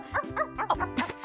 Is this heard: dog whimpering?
yes